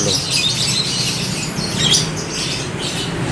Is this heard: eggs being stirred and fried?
no